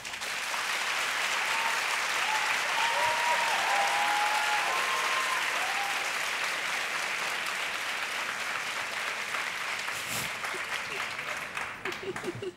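A live audience at a French debate event bursts into sustained applause, a dense wash of clapping from many hands that holds steady for several seconds before thinning out.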